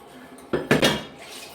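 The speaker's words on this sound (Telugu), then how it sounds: "వాషింగ్ మిషన్ వేసేసి గిన్నెలు తోముతున్నాను." Dishes and utensils being washed by hand in a home kitchen clatter in a quick cluster of clinks and scrapes, close and fairly loud, then fade to quiet.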